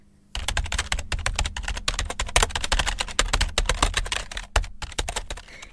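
Rapid, continuous typing on a computer keyboard, a dense run of close, crisp key clicks going on for several seconds without talk.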